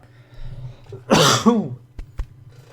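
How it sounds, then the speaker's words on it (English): A single harsh cough bursts out near the mic, followed by a couple of short throaty clicks, with no talking. "The coughing. The coughing."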